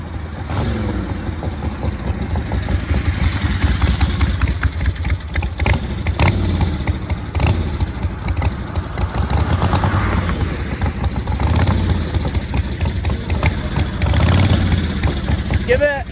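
A 1970s Harley chopper motorcycle engine runs loud and close with a rough, pulsing idle and revving, while voices speak over it.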